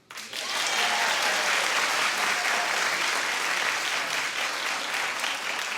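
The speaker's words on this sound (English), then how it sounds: "clap if you'd like to see this" A television talk-show studio audience bursts into applause, steady, full clapping rising quickly and continuing evenly throughout.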